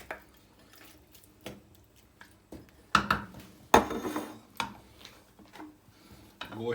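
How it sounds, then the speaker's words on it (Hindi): Meat dropped into a cooking pot for a karela gosht curry, with soft wet squishes, light clinks of metal utensils against the pot and a few louder knocks, close and fairly quiet. "सबसे पहले हम इसमें गोश्त डाल देंगे।"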